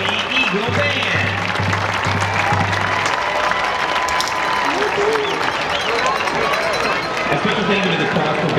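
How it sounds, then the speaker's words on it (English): A crowd at a high school football game halftime show applauds and cheers for a school band, a steady loud roar of clapping and voices with a low repeated drum-like thump near the start. "big round of applause for your mighty Eagle Band"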